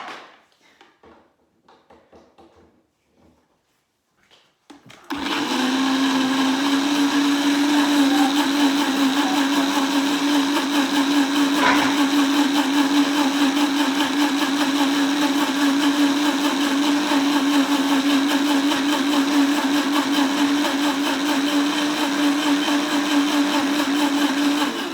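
A countertop blender whirs steadily for about twenty seconds, blending clafoutis batter. Before it starts there are a few soft taps and handling noises, then a loud, close, constant motor drone with a high whine.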